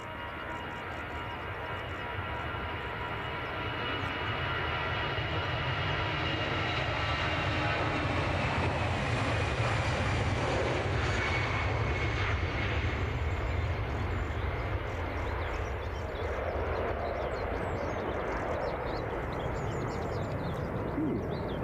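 A KLM airliner taxis at Edinburgh Airport, a steady jet engine whine and rumble that swells toward the middle and holds at moderate distance, with faint bird calls in the background.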